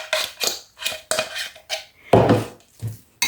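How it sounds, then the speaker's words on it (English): Cooked chicken meat is tipped from a dish into a bowl of stuffing mix, making a series of close clattering scrapes and knocks in an irregular rhythm, with one heavier thud near the end. "So let's tip the meat in."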